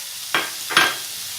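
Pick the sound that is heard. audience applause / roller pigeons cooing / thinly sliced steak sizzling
thinly sliced steak sizzling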